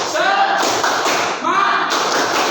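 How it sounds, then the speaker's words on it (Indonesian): Students in a classroom perform the rhythmic 'tepuk semangat' group clap, a loud burst of patterned claps and taps in two quick phrases, with voices chanting along over the clapping. "Tepuk semangat."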